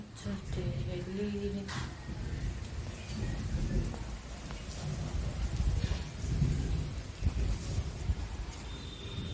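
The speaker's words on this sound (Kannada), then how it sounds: "ಮಳೆ ಬರ್ತಾ ಇದೆ" Steady rain falls outdoors while low thunder rumbles and rolls through it in several swells, fairly distant and muted.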